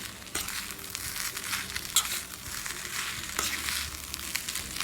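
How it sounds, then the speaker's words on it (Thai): Chopped kale stir-fried with canned fish fried rice in a pan gives a steady, fairly quiet sizzle, broken by scraping and crackling bursts as the spatula tosses the mixture. "ต่อไปเราใส่ผักลงไปค่ะวันนี้ใช้ผักคะน้านะคะ"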